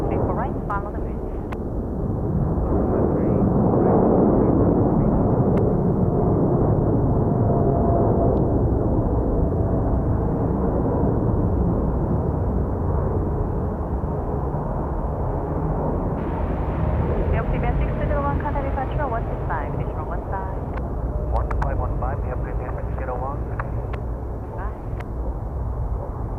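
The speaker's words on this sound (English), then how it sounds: "Big planes, big noise." A large airliner takes off at Incheon airport with a long, loud jet roar that swells and then slowly recedes, while voices talk over it.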